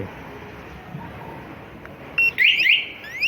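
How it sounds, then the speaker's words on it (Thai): Two quick, shrill electronic chirps from a Texno motorcycle alarm unlocking on a 2020 Honda CBR500R sound close together over faint background hiss. "ไฟเลี้ยวจะกระพริบสองครั้งพร้อมเซเลนดังสองที"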